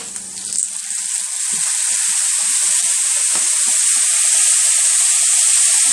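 Soy sauce hits a hot pan for Chinese Canton chicken stir-fry, bursting into a loud, steady sizzle after a brief splash, with a hiss that holds close and constant throughout.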